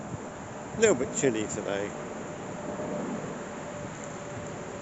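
Wind buffets a microphone outdoors in a cemetery on a chilly day, a constant low rumbling roar that stays under a short spoken remark and then carries on alone.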